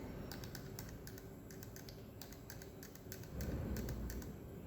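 A run of quiet clicking keystrokes on a computer keyboard plays over a low background hum, with irregular taps coming in short bursts.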